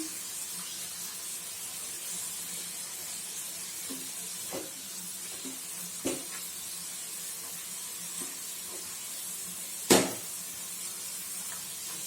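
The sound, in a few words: sautéing mutton in a pan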